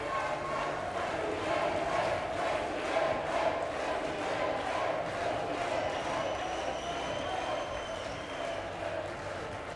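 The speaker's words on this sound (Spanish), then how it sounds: "El líder de Vox llegó al acto de su partido en Ibiza entre gritos de presidente." A crowd at a Vox party rally in Ibiza shouts and chants to greet party leader Santiago Abascal on his arrival, a steady surging din of many voices heard at moderate distance.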